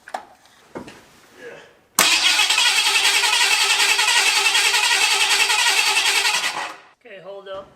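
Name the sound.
starter cranking a boat engine in a 1979 Ford F150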